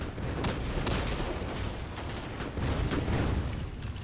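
Sustained gunfire in the video game Destiny 2 during a Scavenger's Den Lost Sector, a dense, steady barrage of shots lasting the whole stretch at fairly even loudness, with no talk over it.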